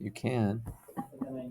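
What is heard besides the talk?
No everyday noises stand out.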